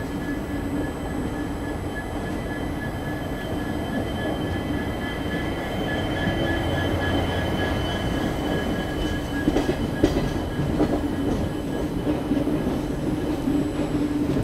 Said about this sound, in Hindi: वो सामने से कोई ट्रेन आ रही है, वो दिल्ली सदरवाला के साइड से आ रही है